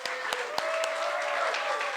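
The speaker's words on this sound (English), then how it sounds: "let's give another round of applause to our new party members" Audience at a political party congress plenary clapping for new party members, a burst of scattered, fairly loud claps over a sustained background tone and crowd murmur.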